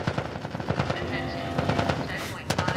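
Rapid automatic gunfire in The Last of Us Part I, dense bursts of shots rattling close and loud, with shouting voices mixed in.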